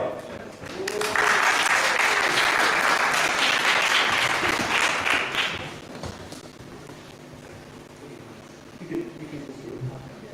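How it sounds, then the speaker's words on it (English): Loud audience applause at a livestreamed startup pitch event breaks out, holds steady for several seconds, then fades into murmuring talk and a few voices. "Okay, again, big applause for Elena Peneva"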